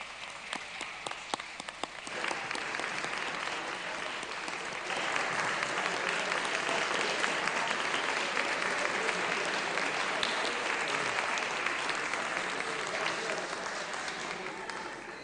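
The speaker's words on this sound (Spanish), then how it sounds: "Un aplauso para ellos, por favor." Steady applause fills a parliament chamber during a plenary session, starting more sparsely and building into dense, continuous clapping that holds for the rest of the time.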